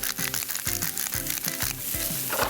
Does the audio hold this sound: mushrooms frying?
yes